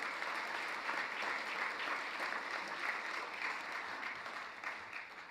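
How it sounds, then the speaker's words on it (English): Audience applause at a farmers' union anniversary convention, steady dense clapping from a large crowd across the whole stretch, moderately distant and even, tapering slightly at the end with no voices over it. "Give them a big round of applause."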